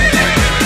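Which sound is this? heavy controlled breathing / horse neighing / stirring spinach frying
horse neighing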